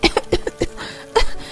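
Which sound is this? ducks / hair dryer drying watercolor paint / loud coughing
loud coughing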